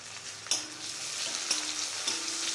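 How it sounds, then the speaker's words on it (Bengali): Chopped tomato sizzles in white oil in a wok, a continuous close crackle broken by three distinct stirring knocks of a spatula against the metal. "এবার আমি টমেটো কুচি দেব, এটাও একটু ভেজে নেব।"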